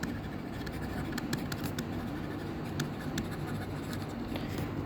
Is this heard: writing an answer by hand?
yes